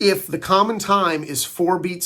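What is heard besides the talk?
No distinct noise like a dog, phone or traffic.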